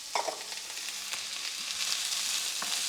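Chopped white and red onion, garlic and mixed herbs frying in a pan, a steady close hiss of sizzling that builds slightly, with a few faint stirring knocks near the start and middle.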